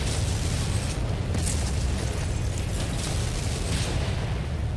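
Heavy explosions in the MechWarrior 5 video game, with missile salvos hitting during a mech battle in an urban setting. They come as a dense, continuous rumble of loud booms and blasts with crackling bursts, and no one talks.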